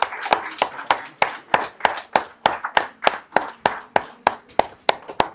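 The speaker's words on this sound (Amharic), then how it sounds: "ጭብጨባ መቋረጥ የለበትም" A group claps in a steady, rhythmic beat at a birthday surprise, with about three sharp, close hand claps each second continuing without a break.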